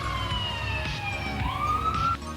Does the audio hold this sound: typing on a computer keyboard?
no